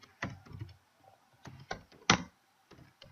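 A computer keyboard is typed on in short, irregular bursts of clicks, with one sharper, louder keystroke near the middle, close and quiet with no talking.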